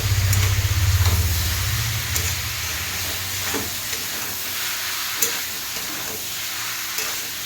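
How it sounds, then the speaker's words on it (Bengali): Chopped tomatoes are stirred in a hot pan for dal, giving a loud low rumble at first that settles into a soft, steady sizzle with scattered scrapes and taps of the spatula. "এর মধ্যে আমি দিয়ে দেবো কুচি করে রাখা টমেটো। টমেটোটা দিয়ে একটু নাড়াচাড়া করে"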